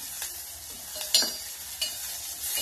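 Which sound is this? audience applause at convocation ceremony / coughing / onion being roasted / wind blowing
onion being roasted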